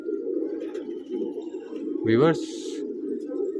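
A pigeon gives a brief, low cooing call amid someone talking steadily over it, the bird sound short and partly masked by his voice.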